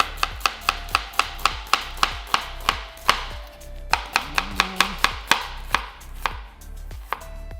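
A knife chops rhythmically through New York steak on a cutting board, slicing thin cuts in a steady run of sharp, close knocks about three per second with brief pauses.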